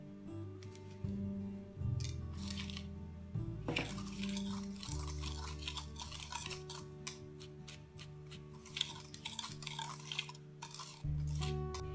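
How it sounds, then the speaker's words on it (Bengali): Jelly mix powder and sugar stirred together in a bowl before making young coconut jelly, with light repeated clinks and scrapes of a spoon against the dish over a constant low hum, close and fairly quiet, no talking. "প্রথমে আমরা জেলি মিক্স ও চিনিটাকে একসাথে মিক্স করে নেব"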